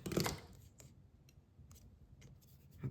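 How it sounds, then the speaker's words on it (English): Scissors trim paper for a handmade thank-you card: a loud, close burst of cutting at the start, then a few faint snips and rustles in a quiet room, ending with another brief close cut. "I'm going to trim that off. Trim that guy a little short."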